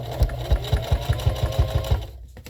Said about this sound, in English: that will help you as far as sewing thick material